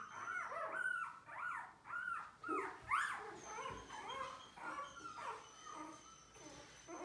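Newborn puppies whimper and yip close by, a run of thin, wavering high cries rising and falling in quick succession, fairly soft, with no talk.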